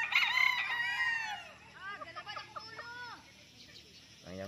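A Kearney Whitehackle over Pumpkin gamefowl rooster lets out a loud, clear crow nearby, followed by a few softer calls from other fowl over faint background noise.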